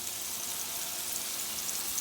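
A patty frying in a pan and pressed down with a spatula gives a soft, steady sizzle, faint and continuous with a faint crackle running through it.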